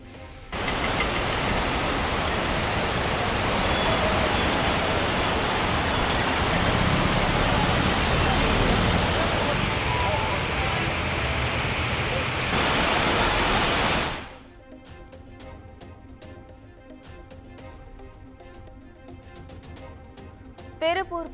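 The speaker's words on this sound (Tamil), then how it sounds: "உதகை மற்றும் அதன் சுற்றுவட்டார பகுதிகளில் 1 மணி நேரத்திற்கும் மேலாக கொட்டி தீர்த்த கனமழை" Heavy rain pours down steadily over Ooty, a loud, dense roar of downpour that swells for several seconds before dropping away abruptly into quieter background noise.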